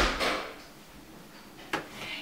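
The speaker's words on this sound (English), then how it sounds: "Can you try not to slam the door so hard so many times?" A door bangs shut twice indoors, a sharp thud near the start and another around the middle, each with a short crack, separated by quiet room tone in a home.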